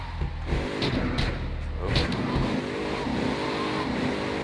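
Yakuza gang car driving in Grand Theft Auto 3, a steady close engine drone and road rumble with a few brief sharp clatters, no talk.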